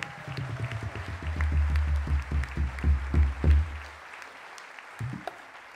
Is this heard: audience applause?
yes